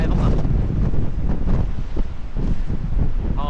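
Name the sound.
strong wind blowing at the seaside beach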